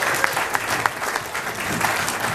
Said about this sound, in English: Round of applause for that one as well.